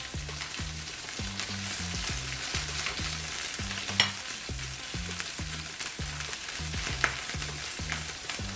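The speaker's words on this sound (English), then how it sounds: "Add another 1 tablespoon of the oil and put in the greens there, and then saute the greens also there." Greens sauté in oil in a pan, a steady, close sizzle with an even rhythm of stirring scrapes repeating every half second or so, and a couple of sharper clinks, with no voices.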